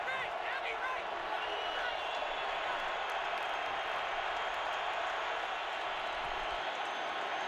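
A packed NFL stadium crowd at a Bengals–Colts wildcard playoff game roars in a loud, continuous wash of noise, with a commentator talking over it throughout.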